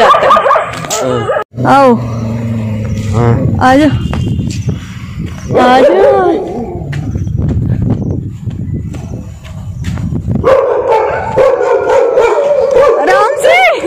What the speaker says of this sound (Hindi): डॉग बहुत ही ज्यादा तेज भौंका